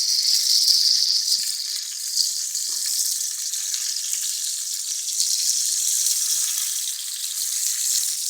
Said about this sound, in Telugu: ఇలా నూనెలో వేసి వేపుకోవాలి